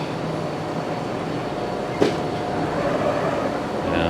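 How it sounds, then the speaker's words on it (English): A four-coach commuter train rolls into a station with a steady, fairly loud rumble and wheel noise, a single sharp click partway through, and the sound swelling slightly near the end. "Here comes my train, and I'm very happy. It's a 4-coach train"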